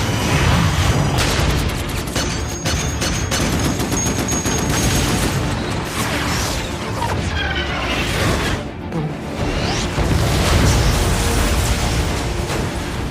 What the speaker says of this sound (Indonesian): Setelah mendengar aba-aba dari Alex, para kru langsung melepaskan seluruh tembakan ke arah musuh hingga menghancurkan pesawat alien.